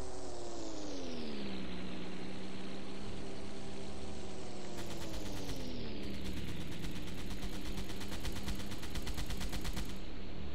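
Crew deck guns firing in Silent Hunter 3, a loud steady drone of aircraft engines with gliding pitch throughout, joined midway by rapid repeated bursts of machine-gun fire that rattle on to the end.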